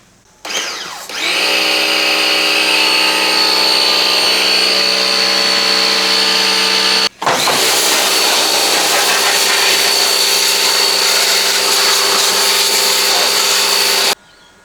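A Gerni pressure washer degreasing the engine bay of a Hemi International pickup truck: loud, continuous whining motor and spray that cuts out briefly midway, then restarts and runs steadily before stopping.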